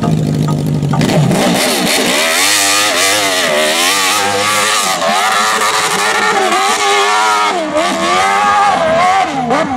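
A stunt trial motorcycle engine revs hard and close, its whining pitch climbing and wavering continuously through aggressive acceleration with no pauses.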